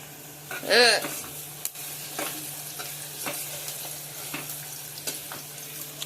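Onion sizzles steadily in hot tempering oil while a utensil scrapes and stirs a few times, close by with no talking.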